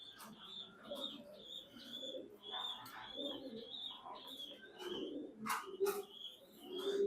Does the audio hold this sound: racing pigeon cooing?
yes